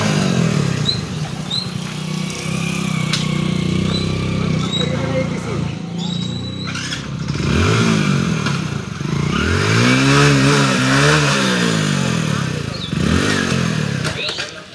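A new motorcycle's engine rumbles and revs in rising and falling sweeps, loud and close, with people talking over it much of the time.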